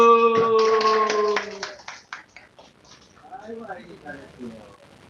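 A Korean church congregation applauds a child: a short burst of brisk clapping with a voice, then it fades into quiet murmuring.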